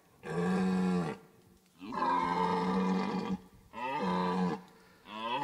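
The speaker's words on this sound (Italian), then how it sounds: "I cervi a ottobre lanciano i loro bramiti d'amore." Red deer stags bellowing in the October rut, three long loud roars with short gaps between and a fourth starting, rough and resonant, close and clear with no voices.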